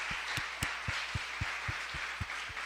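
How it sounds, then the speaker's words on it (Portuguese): A church congregation applauds together with steady, evenly spaced claps, about ten of them, heard over a constant hiss of background noise. "Dê uma salva de palmas."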